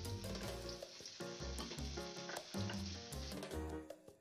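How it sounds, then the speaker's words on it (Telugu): Chopped ginger for a homemade ginger pickle sizzles steadily in hot oil, a continuous crackling hiss heard close up, with tuneful background music running beneath it throughout. "ఆయిల్ వేడైన తర్వాత ఈ శనగ కట్ చేసుకున్న అల్లం ముక్కని వేసుకోవాలి."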